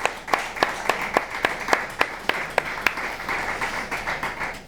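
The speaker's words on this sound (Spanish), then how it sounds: "Qué bueno, un aplauso" A small group claps along with the host of a Spanish talk show, giving sparse distinct claps in a loose rhythm over a soft background wash, fairly near and moderately loud.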